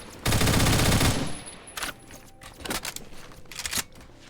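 FAMAS F1 rifle firing in the shooter game Phantom Forces: a loud, rapid automatic burst of about a second, then several shorter bursts and single shots, close and crisp.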